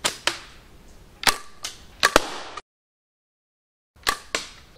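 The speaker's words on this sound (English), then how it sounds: "Believe it or not, I also shot some playing cards." Gunshots fired at playing cards ring out as sharp, isolated cracks, several spaced shots with a short silent gap before two more, loud and close.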